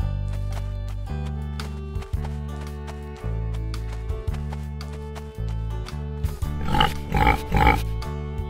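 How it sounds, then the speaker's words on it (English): Over a steady children's backing tune with a bouncing bass line, a pig grunts and oinks in a few short, close bursts near the end. "Pig."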